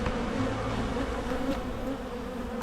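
Honey bees buzz steadily during a late-May beekeeping hive inspection, a close, continuous droning hum with no talking.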